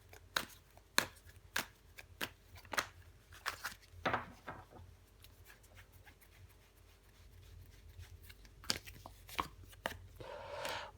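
Tarot cards, the jack and three of wands, being placed down: a series of sharp, close card taps and slaps in an uneven rhythm, then softer rubbing and sliding of cards, quiet overall.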